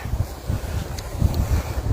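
Strong wind buffets the microphone near a hillside wildfire on a mountain, a steady low rumbling roar with gusty swells and no voices.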